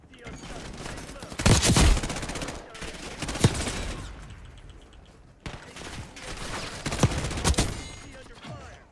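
Hardcore Black Ops 6 match on a small map, with rapid automatic gunfire crackling in repeated bursts and sharp single shots, separated by brief lulls and overlaid by in-game radio voices.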